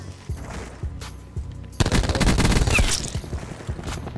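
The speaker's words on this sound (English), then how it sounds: "if you start gunning them at this distance, okay, it's really gonna feel easy with Maddox" Automatic gunfire from shooting bots in the video game Call of Duty Black Ops 4, loud continuous bursts starting about halfway through after quieter isolated shots and game sounds.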